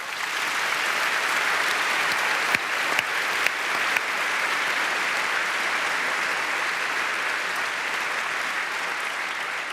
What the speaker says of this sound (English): please give a round of applause for that incredible woman